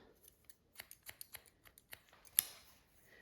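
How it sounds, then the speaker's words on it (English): Hair-cutting scissors make quick point cuts into a spiky haircut, a series of crisp, close snips in an uneven rhythm against near silence, with one sharper snip toward the end. "Point cut."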